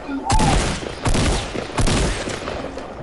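Gunfire in the video game Fortnite, with three loud broadband bursts about a second apart, each ringing out briefly over a busy game backdrop.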